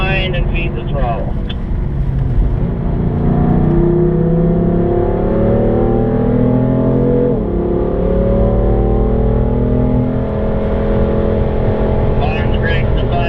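A race car engine driven hard on a track, loud and close, climbing in pitch through rising revs and gear changes with a steady roar throughout.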